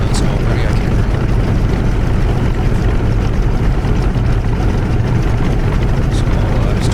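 A Grumman F6F Hellcat's piston radial engine at easy throttle while taxiing off the runway, a steady, loud, rumbling drone with constant low-end roar and no clear breaks throughout.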